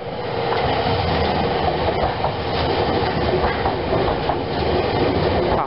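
A green Keio Inokashira Line express commuter train passes close by, its loud steady rumble and clickety-clack of wheels on rails filling the scene without any talk.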